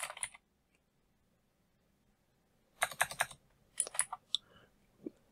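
Typing on a computer keyboard to enter text for a text-to-speech tool: a quick burst of clicks, a long silence, then a busier run of close, crisp keystrokes ending in a few scattered taps.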